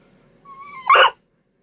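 A dog lets out a thin, high whimper that rises into a short, sharp yelp, close and clear in an otherwise quiet room.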